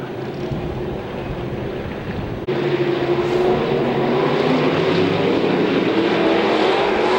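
IMCA hobby stock cars race on a dirt track in a heat, a loud, steady roar of several engines with a sharp jump in volume partway through as the pack surges, continuing as a dense, sustained drone.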